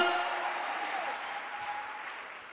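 A church congregation claps in praise during a worship service, a dense, steady burst of applause that slowly fades over a few seconds.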